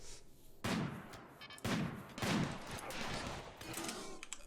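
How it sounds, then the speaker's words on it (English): Inferno cannon fire from attacking centipedes in the RimWorld video game: several heavy booming blasts in irregular succession, each a sharp loud impact with a rumbling tail, with no talking. "Oh god, they've got an Inferno cannon."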